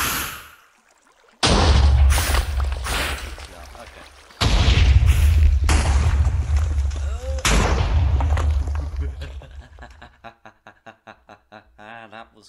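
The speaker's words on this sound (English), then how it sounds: "Okay, that's explosions. Fairly near." Loud booming video game explosions on a Minecraft anarchy server roar up in bursts, nearby and heavy, each trailing off into rumble, followed by a quick series of fading pulses.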